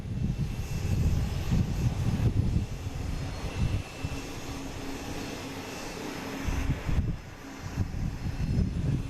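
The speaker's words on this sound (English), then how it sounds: "Just had an American coming in just from LaGuardia, E175" American Embraer E175 jet arriving from LaGuardia, a rumbling engine roar that swells and fades in uneven waves, moderately loud with a thin tonal whine partway through.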